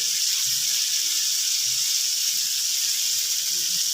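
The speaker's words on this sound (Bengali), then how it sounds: "এবার আমি ঝোলটা দিয়ে দিচ্ছি।" A bowl of water poured into hot spiced oil for a Katla fish curry gives a steady, hissing sizzle that holds evenly throughout, fairly close and without speech.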